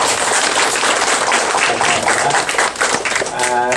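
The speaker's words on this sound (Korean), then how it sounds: "베티나 푸만 목사님께 감사의 박수를 한번 쳐주시죠" A congregation at a Korean church prayer meeting for peaceful reunification claps in thanks for a visiting German pastor, a dense, steady patter of many hands close by for a few seconds, with voices mixed into it.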